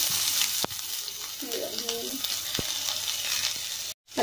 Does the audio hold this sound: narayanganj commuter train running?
no